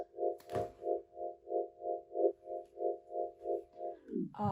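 A single sustained synth tone shaped with a slow Gross Beat tremolo, swelling and dipping in a steady rhythmic pulse about twice a second, with panning automation sweeping it side to side before the pitch slides down and cuts off.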